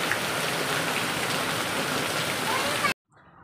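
First monsoon rain falls steadily as a dense, continuous hiss close by, then cuts off abruptly near the end, leaving only faint background sound.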